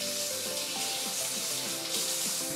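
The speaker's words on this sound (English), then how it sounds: "And we are going to boil this over about medium heat." Soy garlic sauce bubbling over medium heat on a weak stove, a constant frying-like sizzle with soft popping and background music tones layered underneath.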